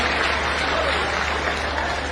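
A crowd at an outdoor political rally and project foundation ceremony in Sehore applauds loudly, a dense continuous clatter of many hands that stays steady for the whole stretch with no speech over it.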